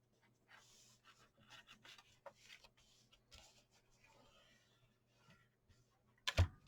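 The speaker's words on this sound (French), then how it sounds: "vous allez peut-être entendre mes bracelets qui font clic, clic, clic" Bracelets on a wrist clicking softly while paper is glued edge to edge into a photo album, faint irregular taps and rustles close by, ending in a louder knock, no talking.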